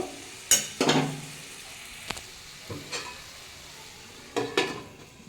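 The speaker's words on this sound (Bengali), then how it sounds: "গ্যাসের ফ্লেমটা আমি একটু কমিয়ে দিয়ে চাপা দিয়ে একটু সেদ্ধ করে নেব" Potatoes and cauliflower cook in a covered pan over a low flame, with a soft, low sizzle broken by a few sharp clinks and clatters of utensils or lid.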